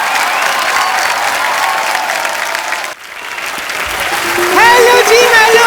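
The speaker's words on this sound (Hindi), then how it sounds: "जोरदार तालियां एक बार।" Loud studio audience applause on a TV comedy show (The Kapil Sharma Show) greeting a guest, a dense clapping wash that briefly drops out, then resumes and swells with rising whistle-like tones near the end.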